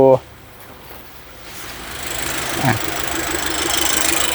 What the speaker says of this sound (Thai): ตอนนี้ยังไม่ได้ดับเครื่องนะครับ